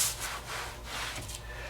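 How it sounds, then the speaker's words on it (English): Finish sanding on a wooden fillet board: a steady, close, dry rubbing and scraping of abrasive on wood that runs the whole time in gentle strokes, with no voices. "Do a little bit more finish sanding, I think."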